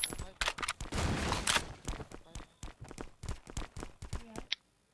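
Bursts of rapid gunfire crackle in quick volleys, with sharp individual shots and a short pause near the end, combat audio from the game Last Island of Survival.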